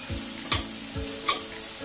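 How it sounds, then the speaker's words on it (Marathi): Onion and tomato sautéing in a pan for spiced fried rice, a soft steady sizzle broken by a few scraping stirs of a spoon, close and moderately loud, with no voices. "कांदा टोमॅटो आता छान परतून घेऊया।"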